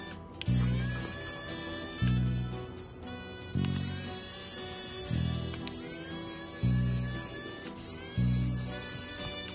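Small electric screwdriver whirring in short repeated bursts while removing back cover screws from an Apple MacBook Pro M1 A2338 laptop, close and loud, with faint metallic clicks over a steady background hum and no talk.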